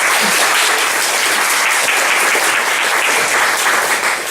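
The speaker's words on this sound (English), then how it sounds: "give them a round of applause, please" A crowd applauds steadily throughout, a dense wash of clapping hands at full volume with no voices standing out.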